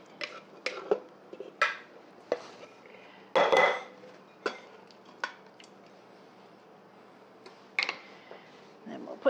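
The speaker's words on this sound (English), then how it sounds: "we're going to take all of the meat that we browned and we're going to dump that back" Browned beef and its juices are dumped back into an Instant Pot for stroganoff, heard as scattered metallic clanks, scrapes and one louder wet tumble from a utensil and container, close by, with someone talking between the sounds.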